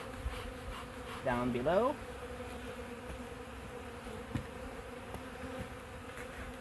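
Honeybees buzz at a hive during an early-March inspection in a bee yard, a faint steady drone with one brief louder buzz passing close by, while a voice briefly speaks.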